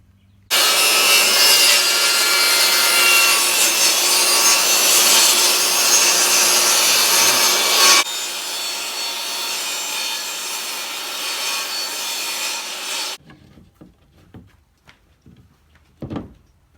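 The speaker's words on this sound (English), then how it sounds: "So I ripped this 2x8 down, and I'm gonna rip this one more time to make it square." A saw rips a wooden 2x8 board lengthwise, a loud, continuous rasping cut that runs for several seconds, drops in intensity midway, then stops, followed by faint scattered knocks and handling sounds.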